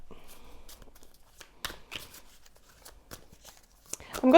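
Tarot cards are shuffled by hand in brief riffling bursts and soft slaps, close and fairly crisp, ending in a louder thump or handling noise.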